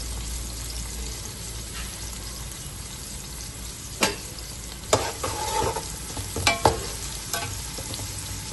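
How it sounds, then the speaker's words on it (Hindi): Onions sautéing gently in a pan for white pulao, a steady soft sizzle running throughout, with a few brief clinks and stirring scrapes standing out near the end. "प्याजों को हमने ज्यादा ब्राउन नहीं करना, हल्का सा बस सौते करना है"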